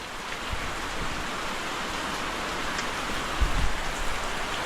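Heavy rain pours steadily in a dense, even hiss during a tropical storm in Pangasinan, Philippines, with a few heavier drops thudding close by.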